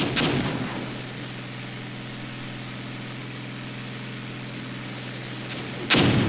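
Tank cannon fire in the tactical war game Armored Brigade, set among woods with BTR armored vehicles: a loud blast opens, followed by a long low rumbling engine drone and a second sharp burst near the end.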